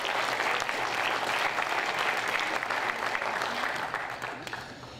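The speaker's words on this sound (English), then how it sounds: "you deserve a round of applause for yourselves" An audience at a talk on recovery applauds, a dense sustained wash of clapping from many hands that holds steady and then tapers off slightly near the end.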